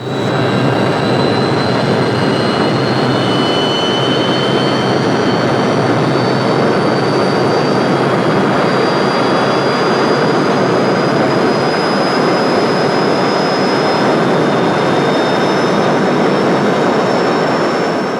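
The Turbinator, a gas turbine-powered land speed record car, gives a continuous loud turbine roar with a steady high whine, sustained and unbroken throughout.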